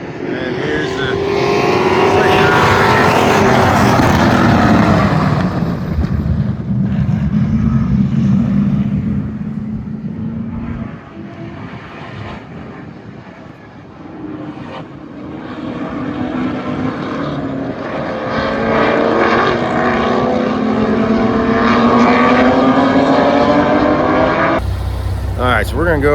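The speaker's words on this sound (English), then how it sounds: "These are actually Legend Outlaws, so they're running Hayabusa motors, so 1300cc engines" Legend Outlaw race cars running 1300cc Hayabusa motorcycle engines roar past on track, engine pitch rising and falling as cars approach and pull away, loud and close with a dip midway before another pack passes.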